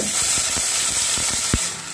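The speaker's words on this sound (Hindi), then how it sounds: "हम पेस्ट को ऐसे मिला लेंगे चलाते हुए" A paste of onion, ginger and garlic fries in hot oil, sizzling continuously up close while a spoon stirs it with repeated scraping knocks against the pan.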